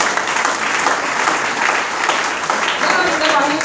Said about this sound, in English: Let us give a hand clap for them.